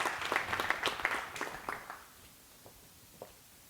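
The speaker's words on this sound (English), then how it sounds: "Please give them a round of applause." Audience applause at the opening presentation of Elevate Oregon 2024, a burst of clapping that fades after about two seconds into a few scattered claps in a quiet room.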